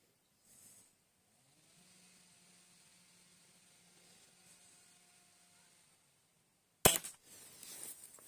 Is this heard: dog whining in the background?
no